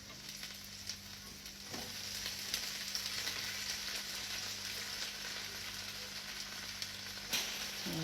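Chicken and pad thai sizzling in a pan, a steady, fairly quiet frying hiss with faint stirring clicks and no talking.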